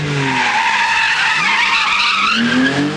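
Tires squeal continuously as a 350-horsepower car slides sideways in a street-racing stunt, a loud sustained screech with wavering pitch over engine noise, no talk.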